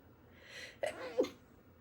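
A single person's sneeze indoors at a desk: a quick sharp burst followed by a second explosive release, close to the microphone against a quiet room.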